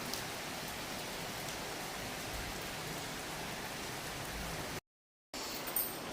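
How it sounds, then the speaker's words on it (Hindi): Heavy rain pours steadily in cold, overcast weather, a dense hiss of drops on surfaces that runs unbroken and fairly close, cutting out briefly near the end before resuming; no talk is heard. "तो देखिए बारिश पड़ रही है"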